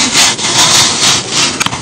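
Something being sliced thin, a short run of rasping back-and-forth strokes, close and loud like a blade sawing through material, with no talk.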